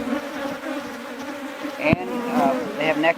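Agitated honeybees in an opened hive, a dense, steady buzzing drone close by, with one brief knock partway through and no talking.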